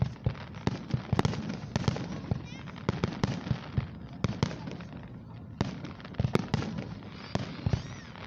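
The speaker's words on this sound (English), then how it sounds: "Alright folks, enjoying the fireworks." Fireworks burst continuously over Grand Lake St. Marys at the Celina Lake Festival in Celina, Ohio, with dense overlapping booms and crackles, some sharp and loud, rolling without pause for the whole stretch.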